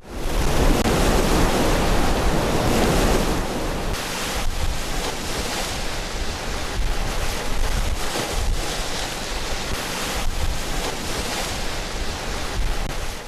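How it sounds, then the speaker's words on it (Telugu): Rough, storm-driven sea with waves up to ten feet high crashing during heavy rain on the coast, a loud continuous roar of surf with rolling swells and wind buffeting throughout. "సముద్రం అల్లకల్లోలంగా మారింది. 10 అడుగుల మేర అలలు ఎగిసిపడుతున్నాయి."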